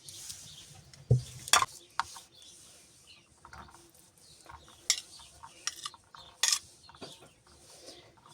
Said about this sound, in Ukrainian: І будемо перемішувати це все.